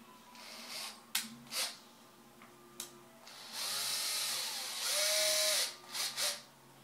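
A Dremel rotary tool works on a carbon fiber frame of a HobbyKing X525 V3 quadcopter, giving several short whining bursts and then two longer sustained high-pitched runs, close and fairly loud, with no talking.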